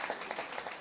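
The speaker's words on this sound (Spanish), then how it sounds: "aplausos, por favor" Audience applause at a book launch, a steady wash of many hands clapping at moderate level, fairly even throughout with a slight swell near the end.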